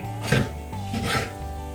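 A knife slices firmly through a fish's flesh and backbone on a board, two crunching cuts in quick succession, up close.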